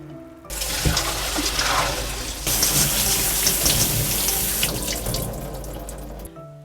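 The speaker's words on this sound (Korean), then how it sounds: "요거를 찬물에 한번 헹굴게요" Boiled red beans for dongji patjuk are rinsed under a running cold water tap, a loud, steady splashing gush close by that fills the whole clip with no talking.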